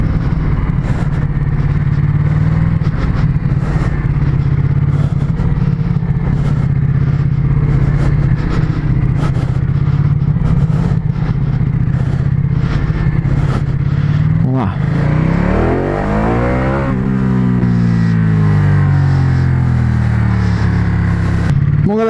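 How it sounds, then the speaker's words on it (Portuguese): A Ducati motorcycle on the Panamerican race circuit, its engine droning steadily at high revs and then dropping sharply as it brakes, loud and close, with someone talking over it. "Que moto louca, mano. Aqui, ela é muito rápida, velho. Olha isso, velho. E o tanto que freia."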